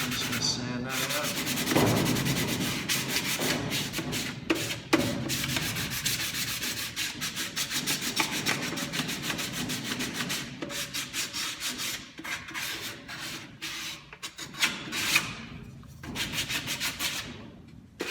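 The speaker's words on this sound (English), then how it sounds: "I've got another scratch here, so I'm just going to sand that out." Hand sanding of a scratch on a wooden sliding-lid box, a steady close rasping rub that runs almost continuously with brief pauses and shifts in stroke, no talking over it.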